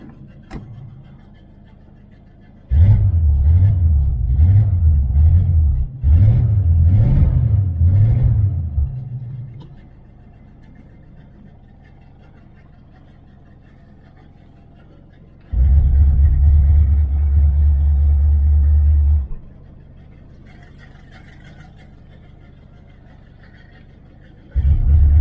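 A 1978 Chevrolet Nova V8 hot rod engine revs in loud, deep bursts: a few rhythmic blips rising and falling, then a quieter idle, then a long steady high-rev hold before settling back, close by with no talk.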